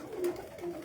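A racing pigeon gives two short, soft coos close by, each a brief low warble with a small gap between.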